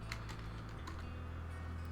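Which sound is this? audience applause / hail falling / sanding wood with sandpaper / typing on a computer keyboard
typing on a computer keyboard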